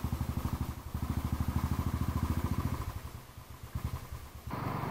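A motorcycle engine on a ride to a hill station with a large club group, a close, steady rhythmic thumping that thins out briefly before picking back up, with no talk.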